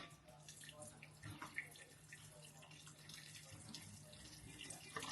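Water runs steadily from a tap into a slug trap holding a teaspoon of Marmite, a faint, even splashing flow with a low hum underneath.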